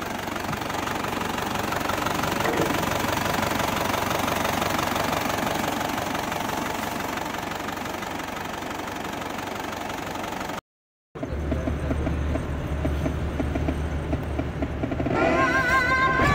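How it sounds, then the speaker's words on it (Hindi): A Chevrolet Tavera with 170,000 km on it runs with a steady engine drone and a rattly knock, then after a brief cut it is heard again, closer and rougher, with no one speaking. "एक बार आपको इंजन नॉइज भी सुना देते बाहर जाके कि इंजन किस तरीके से पर..."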